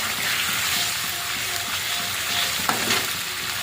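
Pieces of catla fish fry with spices in a pan for a Bengali fish kalia, making a loud, dense, continuous sizzle with stirring scrapes and a single sharper clatter near the end.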